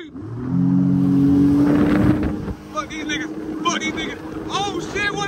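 Pit bikes racing on a street in Jacksonville, engines revving loud and close with a rising buzz that fades slightly as they pull away, amid wind noise and excited shouting voices.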